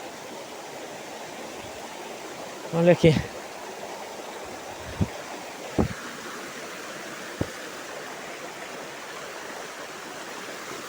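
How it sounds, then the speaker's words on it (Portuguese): Waterfall on a hidden trail in the Itatinga region, heard as a steady, even rush of falling water throughout, with brief speech and a few short knocks near the start. "Sai em cima da cachoeira."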